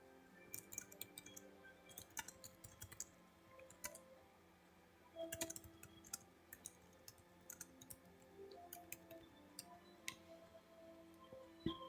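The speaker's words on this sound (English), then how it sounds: "Let me just put this down so I can type faster." Quick bursts of clicky typing on a computer keyboard, close and fairly quiet, with brief pauses between runs of keystrokes and no talking.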